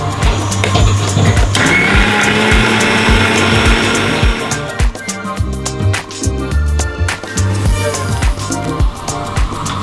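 A kitchen blender whirs loudly, grinding a green chutney of gooseberry, mint and green chilies in a home kitchen in Delhi. The motor roars steadily for about four seconds, then turns to choppier, uneven grinding.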